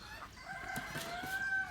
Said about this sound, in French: Donc c'est 5 poules, un coq